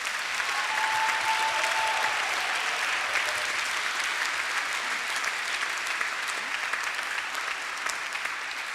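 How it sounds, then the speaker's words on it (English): Steady, even applause from a seated audience at a University of Dundee winter graduation ceremony, honoring three deans; continuous clapping at moderate loudness that holds throughout and eases slightly toward the end. "Can I ask for a round of applause for our three deans who spoke so well just now?"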